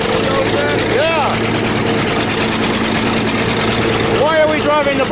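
A bulldozer engine drones steadily as the machine is driven across a farm, a loud, continuous low rumble with a knocking texture, while voices briefly cut in over it.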